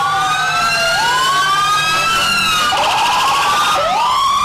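Siren of the Midtown Volunteer Fire Department fire engine rolling past in a Christmas parade in Harriman, loud and close, with long rising and falling wails that restart several times and no talking.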